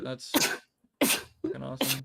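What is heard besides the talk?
sneeze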